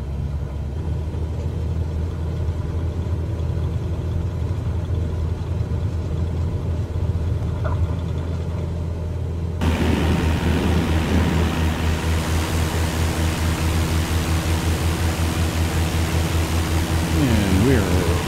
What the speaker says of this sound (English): Let's get on the runway and get in the air.